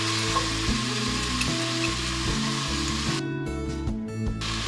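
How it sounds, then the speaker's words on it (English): Vegetables and meat for Japanese curry frying in a pan over medium heat, a steady soft sizzle held close throughout, with a faint tonal hum running underneath. "You can throw the vegetables in and kick it to medium heat."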